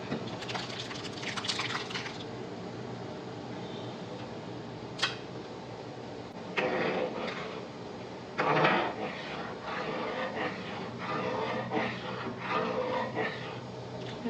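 Cooked lentils and sago are stirred into simmering payasam in a pot, giving repeated scraping and sloshing strokes with a sharp click partway through and louder bursts of stirring later on.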